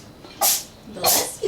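Two sharp sneezes, loud and close, spaced about half a second apart, with a faint vocal sound at the end.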